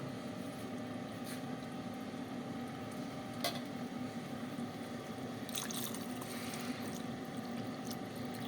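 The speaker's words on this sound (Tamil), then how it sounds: "இப்போ நம்ம வந்து புளி தண்ணி அதில் ஊற்றிடலாம்" Tamarind water poured into a pot of curry leaf kuzhambu, a soft continuous splashing with a few faint clinks, quiet and close, no voices.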